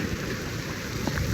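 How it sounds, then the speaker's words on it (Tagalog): Heavy rain pours down in a steady, dense hiss, loud and continuous with no let-up and no voices. "lumakas na naman ang ulan"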